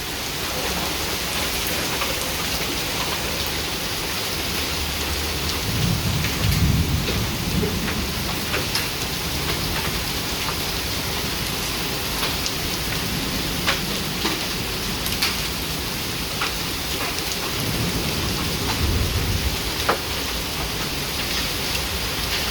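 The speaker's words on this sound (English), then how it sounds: "Just hailing, like massive hails." Heavy rain and hail pounding down in a storm, a dense continuous roar of hits with low rumbles of thunder swelling twice, steady and loud throughout.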